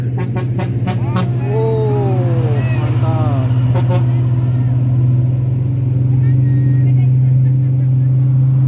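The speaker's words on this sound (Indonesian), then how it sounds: "Oh, ada truk." A truck passes on a road, its loud low engine drone holding steady and close throughout while people talk and call out over it.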